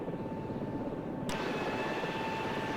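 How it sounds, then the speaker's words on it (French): In the game Vietnam Med Evac, a helicopter descends with a steady droning engine and rotor hum, loud and continuous, brightening with a sudden swell of higher whine partway through. "Quand l'hélicoptère descend comme ça"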